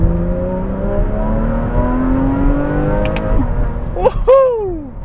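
A Porsche Cayman S in sport mode revs hard as it accelerates, its engine note climbing steadily before a sharp drop at a gear change and a loud surging rise again, close and dominant inside the car.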